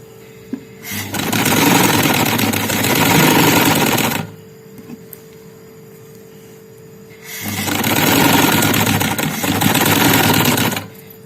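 Sewing machine stitching along the edge of a fabric neckline border, running in two long loud bursts of steady mechanical whirring separated by a quiet pause, with no talk.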